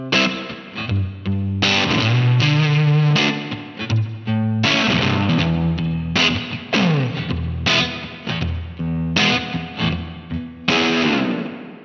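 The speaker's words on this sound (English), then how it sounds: "we're gonna start with some simple connecting lines to start incorporating melody into the groove" Overdriven electric guitar plays lead connecting lines woven into a chord groove, mixing strummed chords with quick melodic runs and bends, loud and close, no talking.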